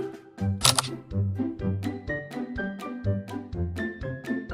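A series of crisp camera shutter clicks from a video game, about eight in a steady rhythm, each with a short synthetic tone, close and clear.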